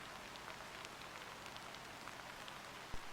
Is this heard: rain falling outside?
yes